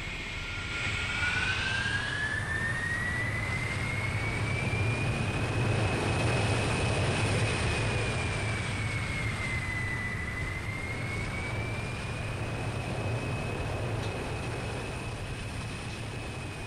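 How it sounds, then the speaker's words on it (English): Fighter jet flying in the Transport Fever 2 video game, a steady loud engine roar with a rising then gently wavering whine, continuous and close throughout without any talk. "We're gonna take a ride on a fighter jet."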